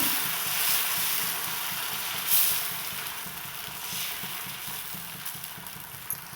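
Wheat-flour dosa batter spreads across a hot pan, giving a steady, close hiss of sizzling that holds throughout, with a few small bumps and scrapes and no voices.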